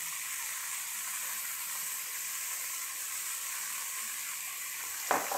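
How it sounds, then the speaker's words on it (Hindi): Water sprinkled over besan roasting on a low flame sets off a steady, gentle sizzle in the pan, even and unbroken, with a brief clink near the end. "अब हम इस पे पानी का छट्टा लगाएंगे।"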